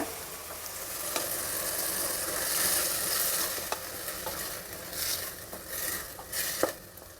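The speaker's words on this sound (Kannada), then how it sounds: "ಮಸಾಲೆ ಹಾಕಿದ್ಮೇಲೆ ಒಂದು 2 ನಿಮಿಷ ಹುರಿಬೇಕು" Masala spices frying and being stirred on high flame in a pan for fenugreek-leaf and field-bean pulao, a steady close sizzle with scattered scraping clicks of the spoon throughout.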